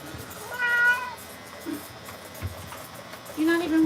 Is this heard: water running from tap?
no